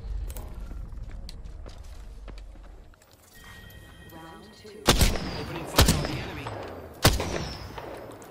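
Three loud, separate gunshots ring out in Apex Legends Season 3 after a quieter stretch of game noise and movement.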